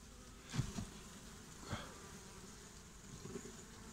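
Honeybees in a hive whose frames are being lifted and checked during hive consolidation; a soft, steady buzz runs throughout, with a few brief louder swells of nearby bees.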